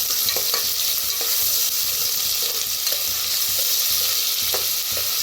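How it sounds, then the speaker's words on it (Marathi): Loud, steady sizzling of bay leaves and spices frying in hot oil in a pan for a chicken dish, with occasional clicks and scrapes of stirring throughout. "भाजून घेऊया"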